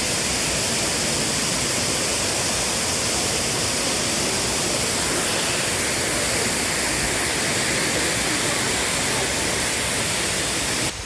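Muppochora waterfall in Bilaichhari, Rangamati, roars as a loud, unbroken wash of falling water that fills the whole stretch without pause.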